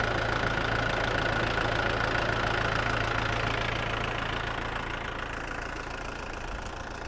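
A tractor engine idling on a farm field, a steady low mechanical rumble with a faint whine above it, continuous and fairly close, slowly easing slightly in loudness with no voices.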